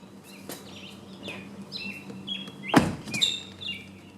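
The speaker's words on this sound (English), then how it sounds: "And once I close the door," A 2016 Honda HR-V car door shuts with a single sharp thud partway through, set against a steady low hum and birds chirping in the background.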